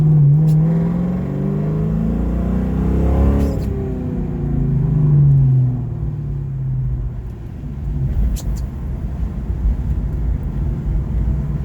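Ford Mustang with the 4.6 liter two-valve V8 driving under light throttle with early shifts, a steady low engine rumble and drone rising and falling through gear changes, heard alone without talk.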